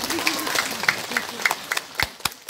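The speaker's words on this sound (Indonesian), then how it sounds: "Tepuk tangan buat Pak Haji Suryana." Scattered hand claps from a congregation at a Sundanese sermon in a mosque, honoring a mosque elder; individual claps stand out in an uneven rhythm while a voice carries on underneath.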